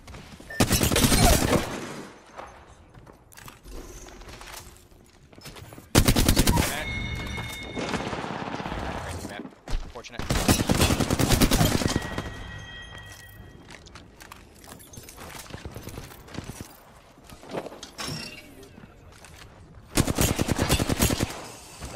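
Apex Legends gunfire sounds in repeated heavy bursts of rapid automatic shots across the stretch, separated by quieter gaps with footsteps and game effects, loud and close throughout.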